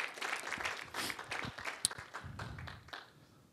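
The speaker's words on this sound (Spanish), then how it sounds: "darle un fuerte aplauso" Applause from a church congregation with scattered clapping that gradually fades away, fairly distant and soft.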